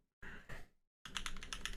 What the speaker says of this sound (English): Let's do a typing test, shall we?